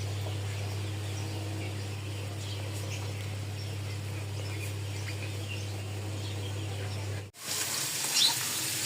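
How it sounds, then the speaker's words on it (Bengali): Fish frying in hot oil in a home kitchen, a steady close crackling sizzle for most of the stretch before a brief cut and a brighter, hissier burst at the end; no talk. "মাছ ভেজে দিচ্ছি"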